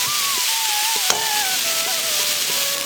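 Potato, pointed gourd and eggplant frying together in a pan for a Bengali fish chochchori, a loud continuous sizzle with soft stirring knocks, while a thin melodic tone runs over it.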